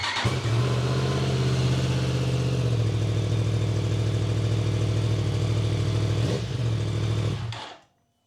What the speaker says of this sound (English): So we'll just go ahead and do a cold start with the stock exhaust.